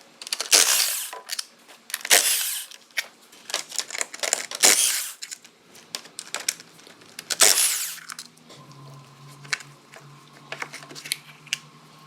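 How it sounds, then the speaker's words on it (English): Four 8mm bolts come off a motorcycle's front sprocket cover, heard as a run of sharp, close metallic ratchet clicks and taps in quick bursts, followed by a quieter stretch with a faint steady hum and scattered light clicks. "These are 8mm bolts, so I'll go ahead and pull those 4 bolts off."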